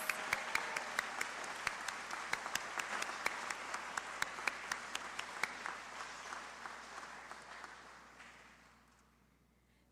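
An audience applauding elementary school age category winners at a student art competition awards ceremony, steady clapping with distinct sharp claps standing out, gradually thinning and fading away toward the end.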